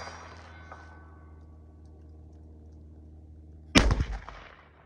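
A single sharp, loud report from a suppressed Ruger American .308 SBR rifle fitted with a solvent trap suppressor cracks out near the end, following a few seconds of steady low hum and quickly decaying away.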